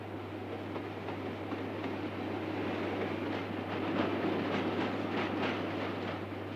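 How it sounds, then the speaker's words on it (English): Commuter trains run through London Bridge on one of the world's busiest railway lines, giving a steady, fairly loud rumble with clattering wheel noise and rising rail squeal, with no talk over it. "At commuter time, 100 trains pass here each hour."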